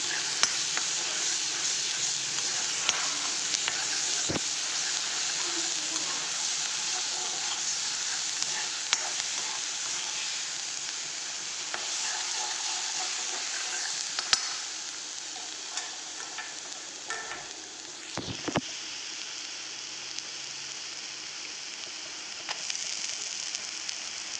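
Continuous sizzling of ginger-garlic paste frying in a pan, with occasional scraping and clinking as it is stirred, fairly close and even in level.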